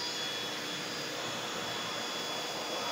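A vacuum cleaner runs with a steady, dense whooshing roar and a faint high whine, close and constant for the whole stretch, with no talking over it.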